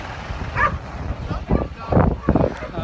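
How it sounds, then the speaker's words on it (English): A dog barks and yips several times nearby outdoors at an air show, short irregular bursts mixed with people talking. "Dog's barking."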